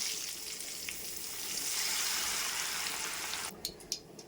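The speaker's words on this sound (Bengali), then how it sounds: "মটরশুঁটিটা ফোটে দেখে আমি কিন্তু ঝাঁঝির মধ্যে ভেজে নিচ্ছি" Green peas frying in oil inside a metal strainer give a steady, close sizzling hiss that swells midway, followed near the end by a few sharp pops and spatters.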